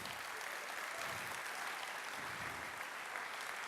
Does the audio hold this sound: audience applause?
yes